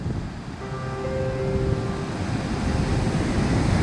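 Ocean surf washes steadily against an Oregon shore, a continuous broadband rush building slightly louder over a few seconds, with a faint tonal hum briefly present.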